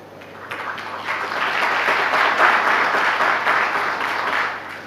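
An audience at the UN-GAID annual forum in Abu Dhabi claps steadily, the applause swelling after a quiet start and holding loud and dense to the end, with no talking.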